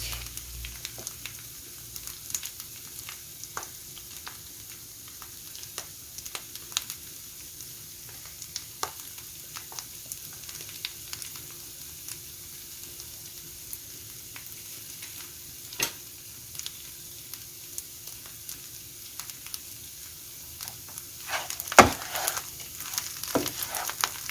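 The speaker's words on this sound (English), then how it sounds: "When the herbs are fried to this extent, we add some salt and turmeric." Chopped herbs for Ghormeh Sabzi frying in a pan, a soft continuous sizzle with scattered crackles and occasional stirring clicks, close and fairly quiet, with no voices.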